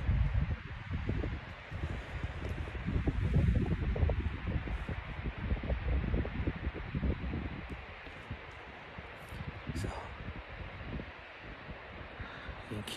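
Strong wind blows across snowy mountain terrain near a frozen waterfall in New Mexico, a loud, rumbling, buffeting roar that surges and eases over several seconds before settling lower.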